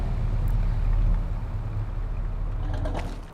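Truck engine revved in a car dealership simulator game, a steady loud mechanical drone that eases off slightly toward the end, with no talk over it.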